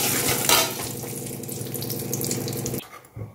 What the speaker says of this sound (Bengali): আমি মাছ এখন একটু ভেজে নিচ্ছি।